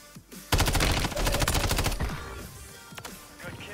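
Rapid automatic gunfire in Call of Duty Warzone, a loud dense burst of shots lasting about a second and a half, followed by fading game effects and a few scattered later impacts.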